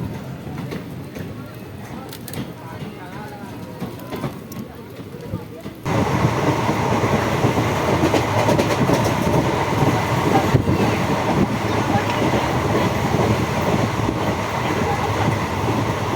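A train pulls into Bishnupur station: quiet platform ambience gives way abruptly to a loud, sustained rolling rumble that stays close and continuous.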